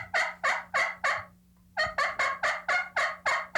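Wooden turkey call with its holes opened for more volume, giving a loud series of rhythmic turkey yelps, four notes, a short pause, then about seven more, close and alone.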